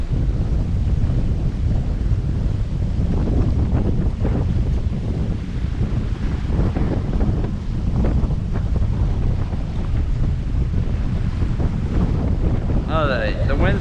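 Strong gusts from Tropical Storm Isaias buffet the microphone in Cape Coral, Florida, a loud, continuous low roar of wind noise with surging rumbles and no speech throughout.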